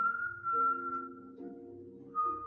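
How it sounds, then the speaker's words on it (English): Someone whistles a slow, wavering tune, long drawn notes sliding and pausing, fairly quiet and close. "He's whistling an eerie tune"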